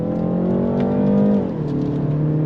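Engine note of a 2023 BMW 330i piped through the cabin speakers, a loud, smooth droning hum that dips in pitch partway through as the car shifts gears.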